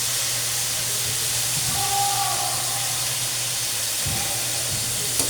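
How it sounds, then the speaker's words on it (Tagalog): String beans sautéing in a pan with garlic, pepper and a little salt, with soy sauce added to them. A steady loud sizzling hiss runs throughout, with faint scraping and stirring underneath. "Maglagay tayo ng toyo."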